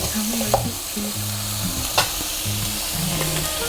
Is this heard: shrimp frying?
yes